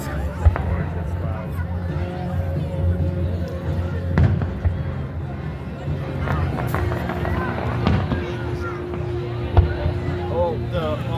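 Fireworks burst at the Lake Placid 250th celebration as scattered distant thuds and pops under the steady chatter of a crowd, with people talking nearby.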